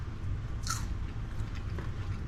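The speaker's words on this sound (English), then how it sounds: "Yeah, that was a nice crunch. Did you hear that?" A bite into a crunchy baked zucchini chip served with marinara sauce and sprinkled with salt, giving a single sharp close crunch followed by faint chewing.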